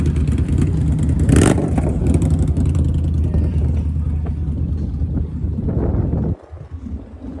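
A vehicle engine nearby on a Manhattan street, throttled and revving loudly under heavy wind rumble and traffic noise, then dropping off sharply near the end.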